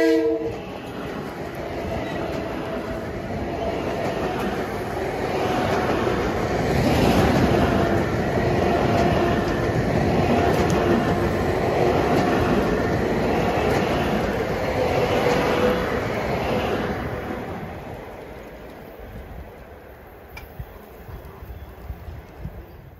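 Long Island Rail Road train 1657, running from Huntington toward Grand Central, passes Eastgate Drive in Cold Spring Harbor among autumn trees: a loud rumble and rhythmic wheel clatter build, hold for several seconds, then fade away.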